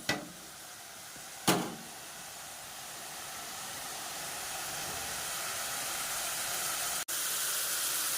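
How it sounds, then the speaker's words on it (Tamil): Masala sizzling as it sautés in a pan for mushroom gravy, a steady loud hiss with a couple of sharp knocks near the start and a brief break near the end. "ஸோ நல்லா வதங்கட்டும்"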